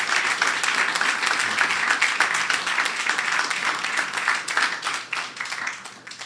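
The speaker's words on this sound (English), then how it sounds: "I think we should give Dr. Gill a round of applause" An audience at a formal emancipation observance gives sustained applause, dense overlapping clapping that stays loud and even before thinning slightly toward the end.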